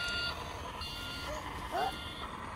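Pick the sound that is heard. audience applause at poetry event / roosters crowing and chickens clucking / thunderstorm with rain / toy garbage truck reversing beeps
toy garbage truck reversing beeps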